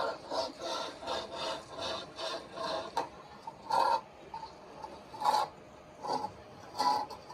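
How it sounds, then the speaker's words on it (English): Stucco wall being scrubbed by hand during blistered, moisture-damaged stucco repair, a steady rhythmic rasping rub of repeated strokes, moderately near with a few stronger scrapes toward the end. "Scrub like you mean it."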